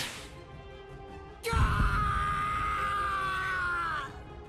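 A man's prolonged pained scream from the video game Bleach Rebirth of Souls bursts in loudly after a quieter stretch, holding steady for about two and a half seconds before cutting off.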